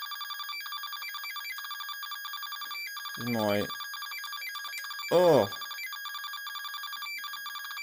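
Electronic beeps and tones from a Tandy 5-in-1 LCD handheld video game running Tetris, a steady high-pitched chirping pattern with two louder warbling bursts in the middle, and a brief spoken exclamation.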